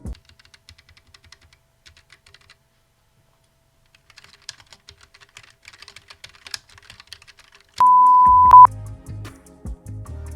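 Rapid clicky keystrokes patter on a Keychron mechanical keyboard in irregular bursts, close and crisp, followed by a sustained beep and louder thumps near the end.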